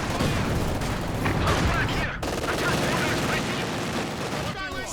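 A Company of Heroes 2 battle rages with dense, continuous gunfire and rapid bursts of automatic weapons, loud and close, keeping up without a break for the whole stretch.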